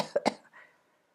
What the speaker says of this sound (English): This is a terrible cough that shakes the whole body.